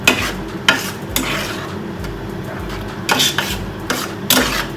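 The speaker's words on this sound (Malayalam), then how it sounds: "നമ്മുടെ ശർക്കരയും തേങ്ങയും കൂടെ കിടന്നു നല്ല വഴന്ന് കിട്ടിയിട്ടുണ്ട്" Grated coconut and jaggery sauté in a pan, stirred in repeated rhythmic scraping strokes over a soft, constant sizzle, close and fairly loud, with no talking.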